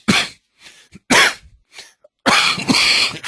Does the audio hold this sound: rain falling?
no